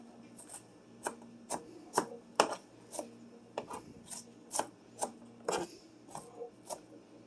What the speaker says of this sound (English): as soon as we cut these onions a little smaller